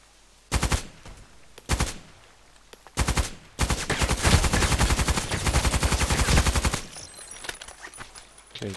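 Sniper rifle shots ring out in a video game set on a lake map, several sharp loud cracks at uneven intervals, then a dense stretch of rapid continuous gunfire before it drops back to quieter ambience.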